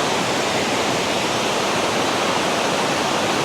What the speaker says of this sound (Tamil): இதில் பாருங்கள் வாட்டர்ஃபால் எப்படி இருக்குண்டு